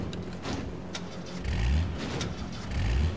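In a video game, a car engine starts and revs in short bursts, with two low surges of throttle over a brief moment.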